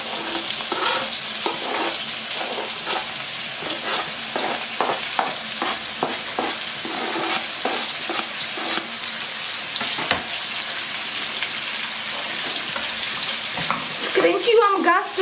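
Onion frying in a pot alongside roasted pork shoulder, a continuous sizzle punctuated by repeated stirring scrapes and clatters throughout, with a brief splash near the end.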